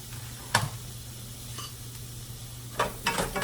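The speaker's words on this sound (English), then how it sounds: "put them in your pan and start sauteing those up until they're like translucent or brown" Chopped onions sautéing in a pan over a stovetop flame, a soft steady sizzle over a low hum, punctuated by several short scraping and clinking stirs of the utensil against the pan.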